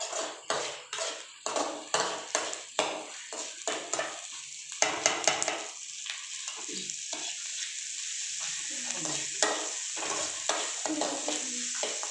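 Spices fry in a pan while a spoon stirs them in quick, rhythmic scraping strokes at first, then settles into a steady sizzle with occasional metallic clinks.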